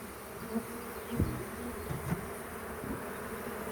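Honey bees drone steadily around a beehive, a dense continuous buzz close by with a few louder individual bees passing near, and no voices.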